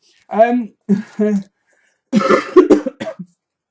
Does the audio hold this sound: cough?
yes